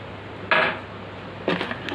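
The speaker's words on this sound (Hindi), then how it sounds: "मैं इसको अच्छे से स्टर कर लूँगी।" A spoon stirs sugar into milk for a kewra and tukhm-e-balanga sherbet, giving two brief metallic clinks against the container about a second apart over quiet room tone.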